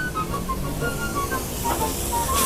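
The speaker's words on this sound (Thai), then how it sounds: "ไปครับลงเนื้อเลย" Beef hitting a hot wok for a Thai stir-fried kaprao, a steady close hissing sizzle with faint high whistling tones above it.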